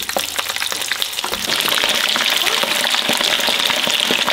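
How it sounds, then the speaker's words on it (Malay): Chicken for ayam kremes frying in hot oil crackles and sizzles steadily, loud and close, with dense popping throughout. "Sekarang kita menggoreng ayam."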